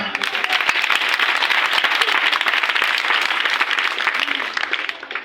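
A church congregation applauding in acclamation of the Lord at a Galilee feast service, dense sustained clapping from many hands filling the space, loud and continuous before tapering slightly at the end.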